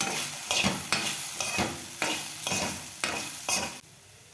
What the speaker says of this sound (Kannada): ಸ್ವಲ್ಪ ಸ್ವಲ್ಪ ಹಾಕ್ಕೊಂಡು ಹುರ್ಕೊಳ್ಳೋದು. ಕೆಂಪಾಗೋವರೆಗೂ ಹುರ್ಕೊಳ್ಳೋದು ಅಷ್ಟೇ.